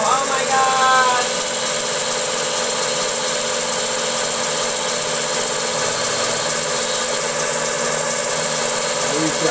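A scratch-built, servo-powered mini machining center with a fourth axis cuts steadily, giving a dense continuous mechanical whine and rattle close by, and voices are briefly heard over it.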